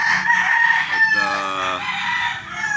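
A rooster crows loudly and close on a farm, with hens clucking around it in a short, busy burst of poultry calls.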